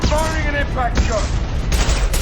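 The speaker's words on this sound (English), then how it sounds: "Firing an impact shot." Impact-shot gunfire from the video game Mass Effect 2 cracks in a few sharp bursts, loud and punchy, mixed with voices and combat sounds.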